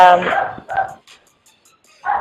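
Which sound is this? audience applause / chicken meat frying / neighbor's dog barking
neighbor's dog barking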